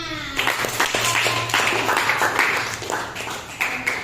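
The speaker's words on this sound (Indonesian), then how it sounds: "Oh ya, tepuk tangan." A classroom full of students breaks into hand clapping, a dense patter of applause that carries on for several seconds with a faint voice underneath.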